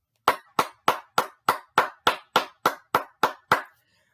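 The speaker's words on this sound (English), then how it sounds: "Round of applause for Skylar Thompson." A single person claps thirteen times in an even, steady rhythm, each clap sharp and close, with nothing else heard between them.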